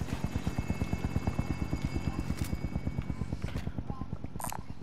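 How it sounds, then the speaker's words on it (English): A video game helicopter thumps with a steady, rapid rotor beat, loud and close, as it lifts away from the area of operations; a few faint voice bits break through near the end. "Helicopters exiting the AO."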